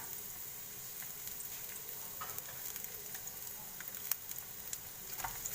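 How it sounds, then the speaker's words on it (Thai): Sliced onion fries in olive oil in a pan, a soft, steady sizzle with light crackles and occasional stirring scrapes, close and continuous with no talking. "ผัดก่อนนะคะทุกคน ผัดหอมหัวใหญ่"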